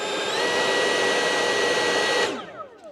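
ECHO 56V battery backpack leaf blower rated at 795 CFM whirs up to a loud, steady high-pitched rush of air, then cuts off and winds down over the last half second.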